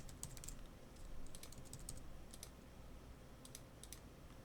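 Typing on a computer keyboard while a blog post is written: quiet bursts of quick key clicks with short pauses between them, over a low, steady room hum.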